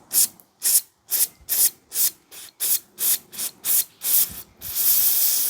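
Assembly and parts cleaner sprayed from an aerosol can while working on a faulty Daewoo Matiz: about a dozen short, close hissing bursts in quick rhythm, ending in one longer continuous spray.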